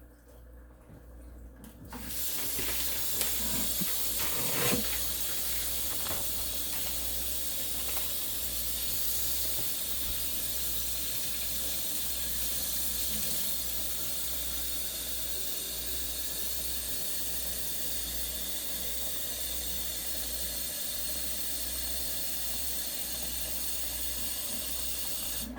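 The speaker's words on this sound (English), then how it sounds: "Now I'm going to add some hot water." Hot water pours steadily into a pot of deer chili, a continuous hissing, splashing flow that runs for most of the stretch after a brief quiet start, loud and close with no talking.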